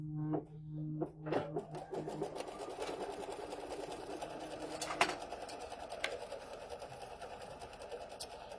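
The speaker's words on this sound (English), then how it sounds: "the first stitch is going to be a placement stitch for your batting" A KimberBell DDE embroidery machine stitches a placement line for quilt batting, its rapid needle chatter starting after a few beeps and running steadily at close range, with brief clicks along the way.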